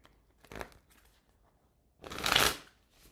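Tarot cards shuffled by hand during a live reading, two quick riffling bursts, the second louder and longer, close up in a quiet room with no speech.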